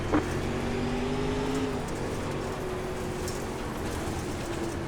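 Dirt Pro Late Model race car engines in iRacing at Knoxville roar in a continuous, loud pack drone with a rough, gritty texture, and no talk over them.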